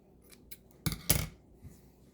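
Scissors trim fabric for a detachable turban cap. A few light snips are followed by two louder, crisp cuts in close succession, all close and quiet, with no talk.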